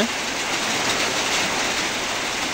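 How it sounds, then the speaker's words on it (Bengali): Steady rain hisses continuously, blended with a rush of wind, with no letup. "সকালবেলা হঠাৎ করে বৃষ্টি বাতাস শুরু হয়ে গেল"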